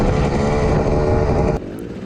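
A Kawasaki dirt bike in a hard enduro cross race roars loud and steady up close, its engine note cutting off abruptly near the end.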